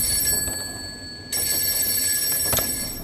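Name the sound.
telephone ringing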